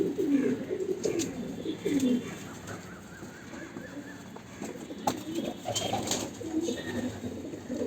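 Pigeons cooing close by, repeated soft throaty coos in uneven bursts over a busy background with a few sharper chirps and light knocks.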